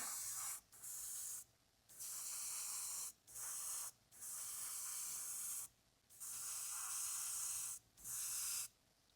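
An airbrush sprays paint onto a Boba Fett prop in a workshop, in repeated close, loud hissing bursts of about one to two seconds each, separated by short silent pauses.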